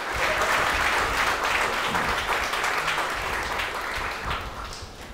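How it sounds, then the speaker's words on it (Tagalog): A church congregation claps together in sustained, dense applause that stays loud and steady throughout before easing slightly near the end, with no voices over it. "Again, pumalakpak ng the best kay Lord ang mga anak ni Lord."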